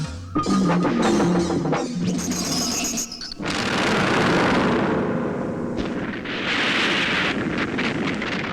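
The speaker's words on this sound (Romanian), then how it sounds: "Ați auzit? Ce a fost asta? Explozie." A series of heavy booms and rumbling blasts, loud and close, followed by a long rushing roar that swells and fades like debris or fire after an explosion.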